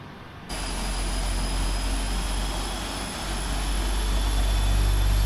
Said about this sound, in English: I believe we can go ahead and fire up those engines